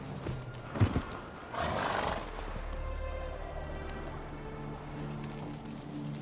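Roach, the horse in The Witcher 3 video game, gallops with a steady rolling hoof rumble after a brief sharp snort or whinny, continuous and close.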